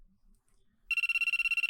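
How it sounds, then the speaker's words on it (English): Telephone ringtone going off late at night in a quiet room, a sudden loud electronic trill that pulses rapidly and repeatedly after a near-silent start, with no voices. "My phone rings."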